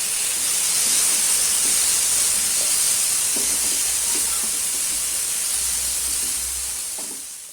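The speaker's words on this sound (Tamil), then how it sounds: "2 தக்காளி அதை போட்டு வதக்கலாம்" Tomatoes sautéing in a pan with onion and curry leaves, a loud, continuous steamy hiss and sizzle that stays even and tapers off at the end.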